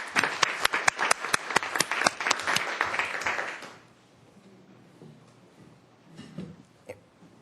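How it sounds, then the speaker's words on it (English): Audience applause at a Parks and Recreation Commission meeting: crisp, close claps ring out for several seconds, then fade into quiet room tone. "I think we should give them all a round of applause"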